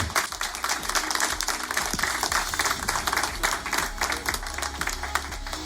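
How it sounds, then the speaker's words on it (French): Sustained applause from an audience, dense steady clapping filling the whole stretch without letting up. "On l'applaudit encore bien fort."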